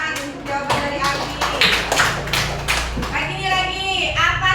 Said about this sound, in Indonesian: Ayo beri tepuk tangan